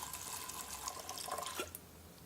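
Water pours steadily into an Instant Pot holding 180 grams of wild rice, a continuous close splashing fill that tapers off near the end, with no talking.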